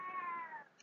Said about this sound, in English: My cat is meowing right now.